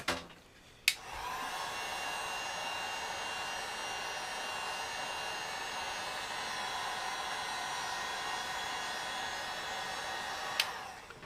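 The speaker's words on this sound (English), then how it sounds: "The blow dryer takes a little bit more, just because it just doesn't heat up quite as fast as the heat gun." Blow dryer running steadily to heat Talon grip tape on a gun, a constant close airy whir sustained for about ten seconds between a click on and a click off.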